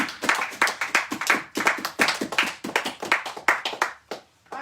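A church congregation claps rhythmically in a steady, lively beat, many hands striking together in quick repeated bursts that fill the room.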